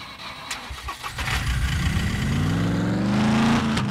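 In the survival game SCUM, a car engine cranks with a few ticks, then catches and settles into a rising mid-pitched hum as the vehicle pulls away, loud and close.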